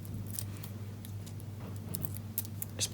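Small snips and crisp peeling ticks from backing paper pulled off adhesive dimensional foam pads during card making, short scattered sounds close by over a steady low hum.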